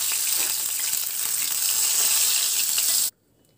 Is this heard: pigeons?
no